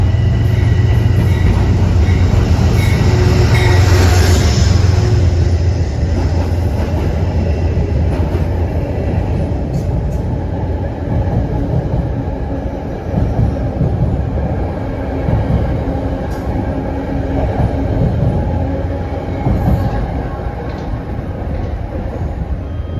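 A Metro-North equipment train rumbles past nearby, loud at first and gradually easing off, with continuous rolling wheel noise throughout.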